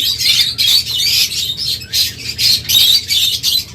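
A pair of green opaline split-blue budgies squawk and chatter loudly and close by, a busy stream of harsh, high calls in short repeated bursts with no talking.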